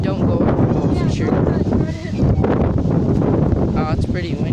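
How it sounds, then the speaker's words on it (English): Gusty outdoor wind roars steadily across the microphone, buffeting it with rough low rumbling for the whole stretch, while voices talk over it. "Oh, it's pretty windy."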